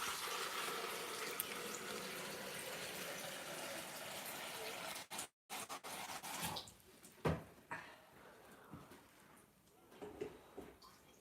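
Water pours steadily from a tap for about five seconds, then stops; afterward quieter clinks and handling noises follow.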